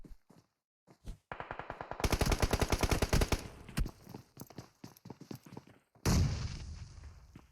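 Automatic gunfire in a battle royale video game: rapid bursts of sharp shots, one long dense string in the middle, then scattered single shots and a final loud blast, with no talk over them.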